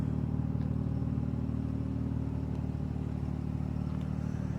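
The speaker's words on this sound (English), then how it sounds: "That is my exhaust to my 350Z." A Nissan 350Z with resonator and muffler delete runs steadily, giving a constant deep exhaust rumble close by with no talk over it.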